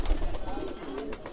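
Pigeons kept in a lot for sale, including desi and Allahabadi breeds, coo softly at close range while a person talks nearby over low background noise.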